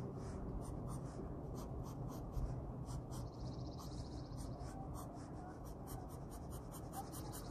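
A pencil pressed hard makes hatching strokes on paper: quick, evenly repeated scratches, close but quiet, with no talking.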